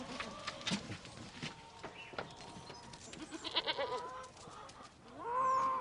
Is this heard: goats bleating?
yes